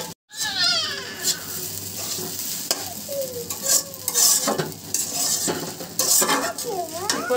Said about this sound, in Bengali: বড় একটা কড়াই নিয়েছি, এতে সব ভালোভাবে নাড়তে সুবিধা হয়